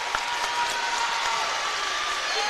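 High school basketball crowd of Parkview Patriots and Sylvan Hills Bears fans applauding in a gym as an injured player sits up, a steady wash of clapping, moderately close and continuous.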